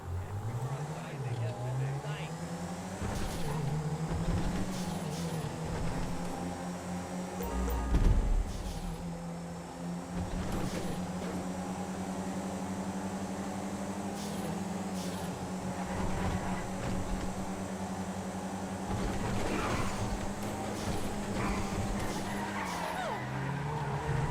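Race cars in GTA V accelerating and shifting in a race, a sustained engine drone that rises and falls with gear changes, occasional tyre squeals, and a voice talking over it.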